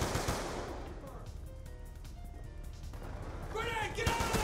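Weapon gunfire in Black Ops 2 on Xbox 360, a rapid burst of shots at the start followed by quieter in-game ambience and a second flurry of sharp reports near the end.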